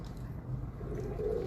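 Pigeons coo softly on a rooftop, a faint low murmur against a steady background hum.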